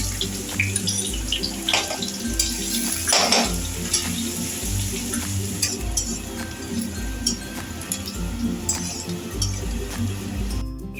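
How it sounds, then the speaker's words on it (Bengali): Garlic sizzles and fries in hot oil in a wok, a steady close crackle with stirring scrapes throughout and no talking. "রসুনটা একটু লাল লাল করে ভাজা হবে"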